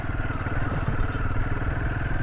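A motorcycle descends a snowy mountain road in Ladakh near Leh, its engine a steady low rumble with wind and road noise, close and continuous, no voices.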